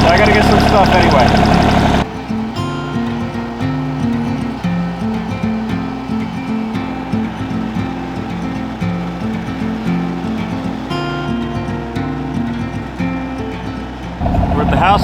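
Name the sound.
tractor engine driving up log trail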